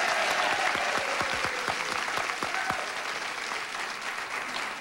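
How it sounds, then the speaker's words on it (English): A game show studio audience claps for two young women contestants, a thick, sustained burst of applause with a few distinct sharp claps standing out early on, then easing slightly while staying full. "give them a nice round of applause"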